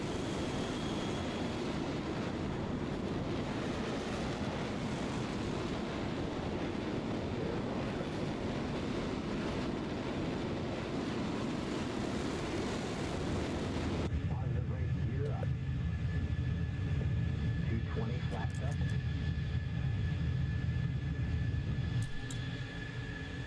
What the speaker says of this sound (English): release the parking brake, give it some throttle, afterburners